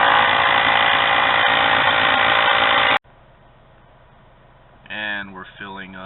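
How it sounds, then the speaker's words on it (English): A 12-volt compressor powered from a car's cigarette lighter socket drones loudly and steadily while inflating a tire, then cuts off abruptly, leaving quiet hum before a voice begins speaking. "This compressor runs right off the cigarette lighter plug"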